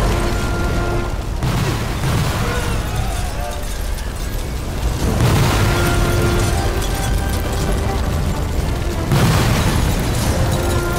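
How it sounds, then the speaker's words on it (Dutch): Explosions in the video game Sniper Elite 4, heavy booming blasts that recur about every few seconds over continuous rumbling game noise. "Ja, een dikke vette explosie dus."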